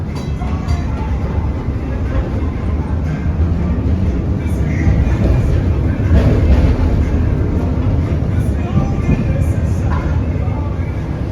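Inside a historic PCC streetcar running in Kenosha, a loud steady rolling rumble of wheels and motors persists throughout, with faint rattles and brief squeals over the drone and low voices present.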